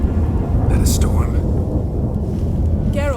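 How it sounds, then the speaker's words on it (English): A storm in The Witcher 3 brings thunder as a heavy low rumble under a dense rain-like wash, with brief voices and a whooshing effect over it. "That a storm?"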